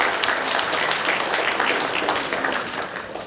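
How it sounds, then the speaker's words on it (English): Full applause from a corporate event audience after a keynote talk, a dense wash of clapping that holds steady and eases slightly toward the end. "give them a round of applause"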